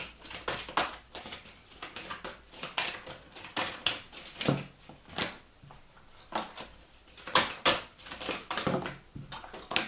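Tarot cards being shuffled by hand, a series of quick papery riffles and soft slaps in irregular bursts, close and fairly quiet.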